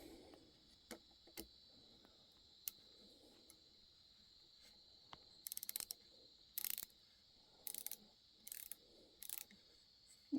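Gearwrench flex head ratchet from a mechanics tool set turning a screw, giving several short bursts of rapid clicking against a quiet background with a steady high hum.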